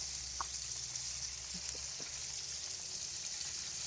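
Chicken wings deep frying in hot oil for hot wings, a steady close sizzle and crackle running throughout with a few small pops and no talking.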